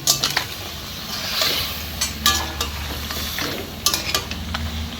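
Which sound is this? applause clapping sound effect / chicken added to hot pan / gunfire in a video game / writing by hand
chicken added to hot pan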